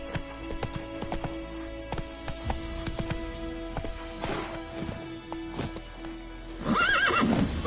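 Geralt's horse Roach in The Witcher 3 gallops with clattering hooves over a sustained droning background, then lets out a loud, close whinny near the end.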